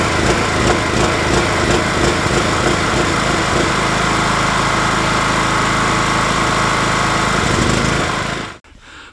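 An Einhell TC-PG 3500 petrol generator runs loud and close with a steady, slightly surging engine drone as it hunts, then cuts out abruptly near the end.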